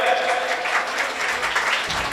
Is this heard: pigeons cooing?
no